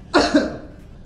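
A single close cough with two quick bursts, followed by a short fading breath.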